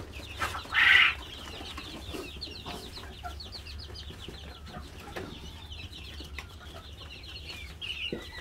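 A sick pet quail gives one short, loud call near the start, then only faint, scattered chirps over a quiet background.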